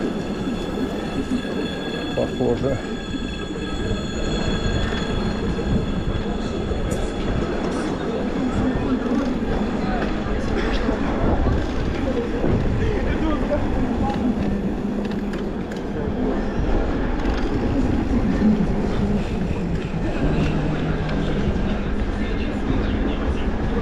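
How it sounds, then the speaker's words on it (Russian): A train passes along a seaside town street in Feodosiya, Crimea, in May, a loud continuous rumble and clatter of rail wheels lasting throughout, with a brief word spoken over it. "сейчас этот будет поезд"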